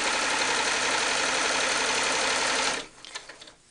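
A sewing machine runs steadily as it stitches a seam in a handmade cloth doll, a loud continuous whirring hum for nearly three seconds before stopping abruptly, followed by a few faint handling clicks.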